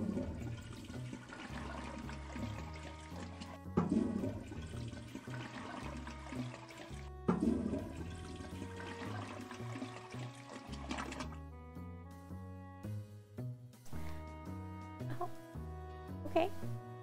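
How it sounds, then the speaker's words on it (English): Toilet flushing in the video game Toilet Flushing Simulator, repeated whooshing water flushes layered over steady game music, with a voice talking at times. "Hey, achievement for the first flush."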